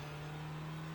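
A Renault Clio race car laps Laguna Seca in the iRacing video game, holding a steady droning engine note at a constant pitch, quiet and alone.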